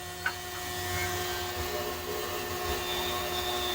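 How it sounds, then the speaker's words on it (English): An ultrasonic cleaner runs with a carburetor jet from a 420cc PowerHorse engine inside, giving a steady tonal hum with a faint high whine, constant and alone after a small clink. "You don't like anything sitting on the bottom of your ultrasonic when it's cleaning."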